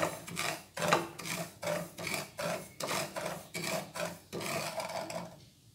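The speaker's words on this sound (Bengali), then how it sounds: "প্রথমে আমি পোস্তটা শুকনো খোলায় একটু নেড়ে নেব" Poppy seeds are stirred in a dry pan over a low flame, giving about a dozen rhythmic raspy scraping strokes, close and fairly quiet, each a short gritty swish before a brief pause.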